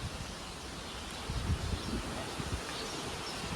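Wind blowing at a hilltop Khodiyar Mataji temple, stirring leaves in a soft, steady outdoor rustle with a low airy rumble that swells briefly mid-way, faint and without voices.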